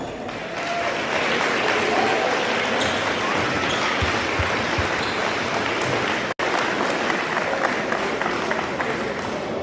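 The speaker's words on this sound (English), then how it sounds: "Let's give them both a round of applause." Crowd applause fills a basketball arena after a conference tournament game, a steady dense wash of clapping lasting throughout with a brief dropout midway.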